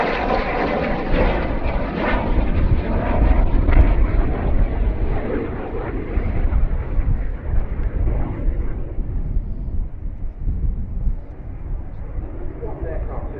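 A Sabre Mk.6 vintage jet flies past at the Duxford air display, a loud continuous broadband jet roar that swells and then slowly fades as it moves away.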